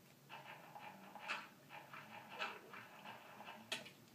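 A dog in a video game pants steadily with a few sharper whimpering yelps, heard close and moderately loud over a continuous game background.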